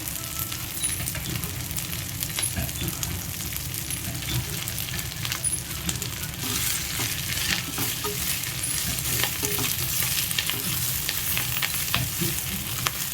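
Drumstick leaves and curry leaves dry roast in a pan on low heat, with a continuous crackling sizzle and frequent stirring scrapes and small clinks, close and steady throughout.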